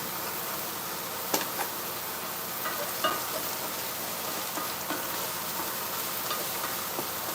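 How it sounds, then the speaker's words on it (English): Vegetables sizzling in a Pampered Chef nonstick grill pan, a loud steady crackling hiss with a few sharp clicks and scrapes as they are stirred, close up and without talk. "Give it another good stir."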